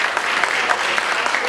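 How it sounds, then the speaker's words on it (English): Brief burst of audience applause at a public gathering in Nigeria, dense steady clapping from a crowd, fairly loud and close throughout. "I think they deserve an applause."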